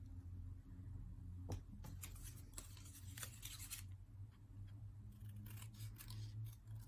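Scissors snip through paper in quick, quiet crisp cuts, irregularly spaced, during scrapbook-style cutting out of a paper shape for a Valentine's craft, close to the microphone over a low steady hum.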